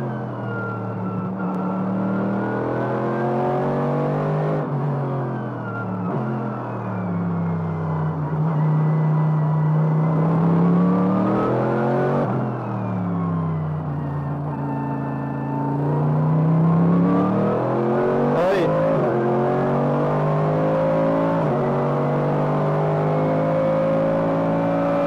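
A GT3 race car accelerates hard on a track. The loud, continuous engine note climbs through the revs, drops briefly at each gear change, then builds again.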